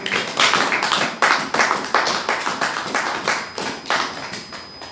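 A church congregation claps in a steady, rhythmic beat, with many hands sounding together in quick repeated bursts that fill the space for several seconds.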